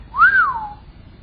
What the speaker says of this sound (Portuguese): Quando Adão vê Eva, ele dá um grande assobio.